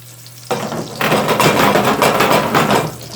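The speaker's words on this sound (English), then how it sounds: "Hear that nice sizzle." Pearl onions hit hot oil and burst into a loud, crackling sizzle that holds steady and close.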